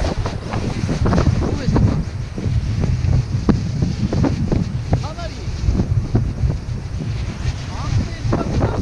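Strong wind above 10 m/s buffets the microphone during a DJI Mavic Mini drone flight, a steady low roaring rush with gusty bursts, while someone talks over it throughout.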